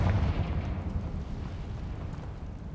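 A Confringo spell blast in the video game Hogwarts Legacy: one loud, booming explosion that bursts at once and rumbles away over a few seconds, with no talking.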